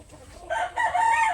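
Fighting roosters being conditioned for an upcoming fight crow brightly and loudly, one strained crow breaking into overlapping calls, with no talk.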